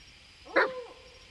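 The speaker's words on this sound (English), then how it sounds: "is that another dog?" A single dog bark in the Blair Witch video game, a short sharp yelp with a trailing whine at moderate distance over quiet ambient background.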